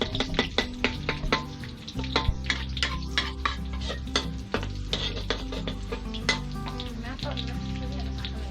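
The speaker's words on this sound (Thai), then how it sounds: "ตอนนี้เราใส่ผัดคะน้าไปเนาะ" Mexican kale and canned fish stir-fried in a wok, a close, busy crackling sizzle broken by rapid scraping strokes of a spatula, with a faint voice now and then under it.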